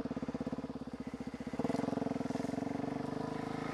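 A motorcycle engine chugs in a steady rhythmic putter, then grows louder and faster at about the midpoint as the bike pushes through dense foliage. The engine is close, with no voices over it.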